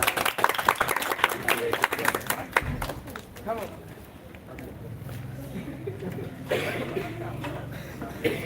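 Audience clapping at an English speech competition: a short burst of applause over the first few seconds, then a voice speaking over quieter room noise.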